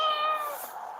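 A cat gives a single short, clear meow close by, lasting about a second with nothing else around it.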